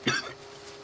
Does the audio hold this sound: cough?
yes